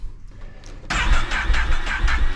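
A 2025 Can-Am Outlander 1000 ATV engine cranks and catches sluggishly, a short starter whir giving way to a loud, steady rumbling idle, close up and alone.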